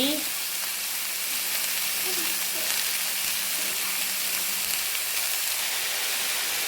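Carrot, green chilli and curry leaves fry in hot oil alongside onion for a spicy chickpea sundal, a loud continuous sizzling hiss that stays even throughout, with no talking.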